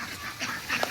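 Ducks running and quacking, a few quick, rough quacks close by over a brief scuffle of movement.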